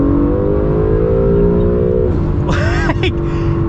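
Acura NSX accelerating hard in Sport Plus mode, heard from the cabin: a loud, steady engine drone climbing in pitch, then a quick upshift and renewed rising whine.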